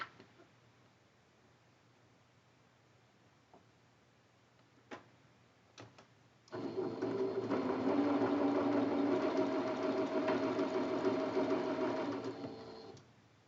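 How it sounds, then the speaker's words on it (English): A sewing machine chain-pieces cotton fabric for a Cotton Boll quilt block, starting after a few faint clicks and then running steadily at a fast, even hum for several seconds before stopping. "Lining up the raw edges and sewing right on the line."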